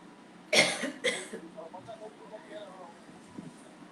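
Two sharp coughs burst out close to the microphone in quick succession, followed by quieter indoor sounds.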